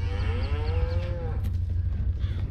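A single drawn-out cow moo from the video game Farming Simulator 19 lasts about a second over a low steady rumble, followed by quieter background noise.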